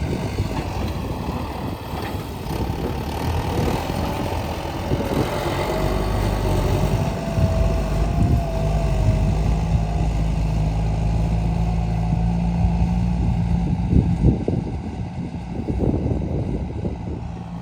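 A tractor engine labours steadily through hard, dry soil while preparing paddy fields, a continuous low mechanical drone with a strained tone that holds fairly loud throughout, no speech over it.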